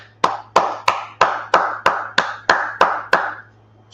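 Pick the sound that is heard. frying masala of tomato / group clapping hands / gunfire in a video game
group clapping hands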